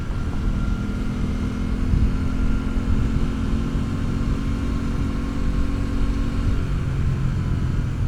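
A 2026 Aprilia Tuono 660 Factory motorcycle engine drones steadily under way at a constant pace, a continuous close hum mixed with rushing wind noise, without any voices.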